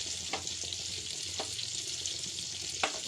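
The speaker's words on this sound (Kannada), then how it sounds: "ಇದನ್ನೊಂಚೂರು ಶಾಲೋ ಫ್ರೈ ಮಾಡ್ಕೊಳ್ಳಿ" Cubes of Amul paneer shallow frying in a pan with a steady, close, hissing sizzle throughout, broken by a few soft clicks of stirring and no talking.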